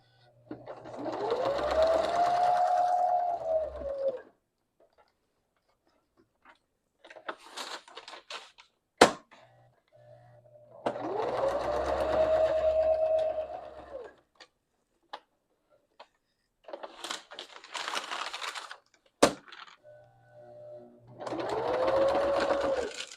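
A sewing machine stitches through paper scraps in three sustained bursts of rapid running, separated by quiet pauses with sharp clicks and brief rustling as the work is adjusted.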